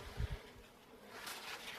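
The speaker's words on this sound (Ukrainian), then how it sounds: "Отут бджоли і збирають нектар для мене." Faint outdoor hum of bees buzzing in a field over soft wind noise, a few low thumps near the start, no voices.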